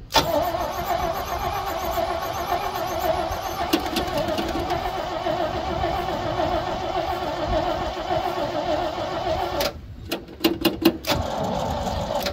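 The starter of a 1970 Chevrolet C50 truck, unstarted for over a decade, cranks the engine repeatedly with a steady mechanical churn for several seconds, sounding unhealthy, briefly cutting out near the end before resuming.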